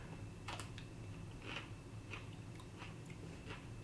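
Someone eats a crunchy Sweet StarrScream Chocolate x Chocolate Linzo F1 pepper, with close, faint crisp crunches repeating at a slow, uneven chewing rhythm and no talking.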